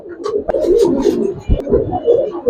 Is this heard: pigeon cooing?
yes